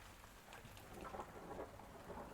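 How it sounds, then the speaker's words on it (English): A soothing recording of rain with thunder plays very faintly in the background, a steady hiss of rainfall with a low rumble and no talk. "I'm turning off the soothing rain sounds."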